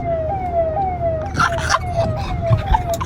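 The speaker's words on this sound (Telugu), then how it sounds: "siren vehicle" A wailing emergency vehicle siren repeats in quick rising-falling sweeps, loud and close, on a road toward Vijayawada, with traffic noise and a brief voice mixed in.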